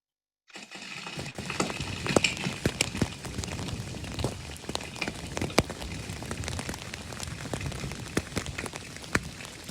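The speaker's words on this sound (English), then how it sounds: "Those days when it did rain were a welcome respite from the sun." Rain falls on the John Muir Trail, a steady dense patter with scattered sharper drops tapping close by, continuous and moderately loud with no voices.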